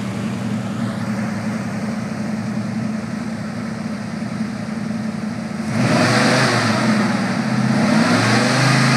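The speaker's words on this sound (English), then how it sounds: "get in there and rev that sucker up" Engine of a 1970 Chevrolet C10 short-bed pickup truck running at a steady idle, then revving up louder and holding the higher pitch for the last few seconds, close by and without speech.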